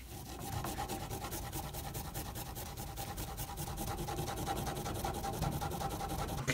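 A puukko knife blade is hand sanded with rolled-up sandpaper, rapid back-and-forth rasping strokes in a fast, even rhythm, close and continuous throughout with no talking.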